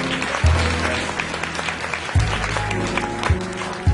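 Applause from an evening business awards audience, a dense and lively clapping crowd heard fairly close, with a few low thumps from the stage sound system breaking through the steady roar.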